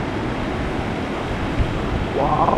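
Flood water rushes over river banks near a lake at Echo Park in Burlington, Wisconsin, a constant churning roar mixed with wind buffeting the microphone.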